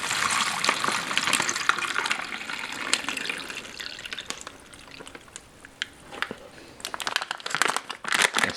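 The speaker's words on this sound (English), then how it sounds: "We'll add 300 milliliters of water." Water being poured into a military ration beverage pouch holding drink powder, for a Norwegian arctic field ration: a steady splashing gush and crinkling of the plastic pouch, fairly close, ending in a few louder crinkles as it is handled.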